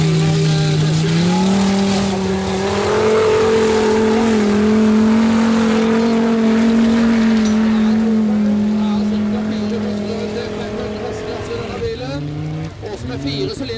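Four-cylinder Formula Offroad race car engine at Mysen, Norway, roaring loud and steady as it climbs the hill, then revving and stuttering near the end under an excited commentator's voice.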